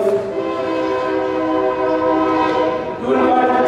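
A train rolls past with a loud, sustained horn blaring continuously, steady harmonic tones over rumbling rail noise, swelling again near the end.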